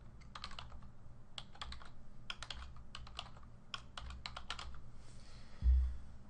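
Typing on a computer keyboard: irregular clusters of light, crisp key clicks close by, pausing briefly between bursts, with a soft low thump near the end and no talk.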